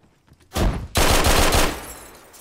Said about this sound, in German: Schüsse auf uns.